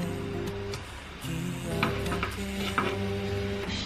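Buttered toast slice frying in a pan for a breakfast dish, a steady close sizzle with light scraping and pressing sounds over background music.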